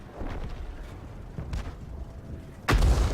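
A World of Tanks LEFH18B2 artillery gun fires near the end, one heavy booming shot after quieter muffled battle rumble and a few soft thumps.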